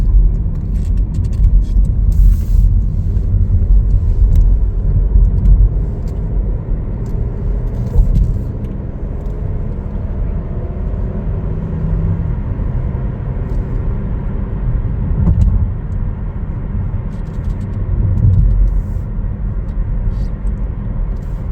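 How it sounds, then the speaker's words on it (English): A 2024 Chevrolet Trailblazer AWD LT on a test drive gives a steady, fairly loud interior rumble of engine and road noise that swells and eases slightly, with no speech. "we're all set to take it for a test drive here"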